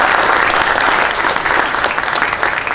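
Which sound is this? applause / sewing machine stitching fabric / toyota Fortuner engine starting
applause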